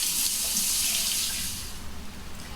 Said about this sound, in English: at this point, you're probably gonna have to wash your hands